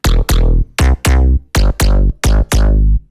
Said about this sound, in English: how to make this synthetic digital sounding bass pluck in Serum